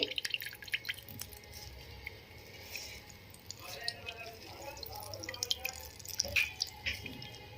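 Water drips and trickles from squeezed milk curds (chhena) being pressed for rasgulla, a faint, irregular patter that gets busier toward the end, with a soft voice in the background.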